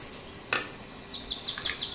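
Broad beans frying in a pan for avarakkai rice, stirred with a few scraping strokes over a steady close sizzle; a sharp clatter comes early, then lighter scrapes follow.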